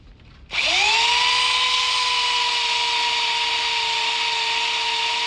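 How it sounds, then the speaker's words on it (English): A handheld electric power sander spinning up and running steadily against wood, a close, loud continuous whine with a steady hum after a short quiet start. "What we're going to do is you take the sander"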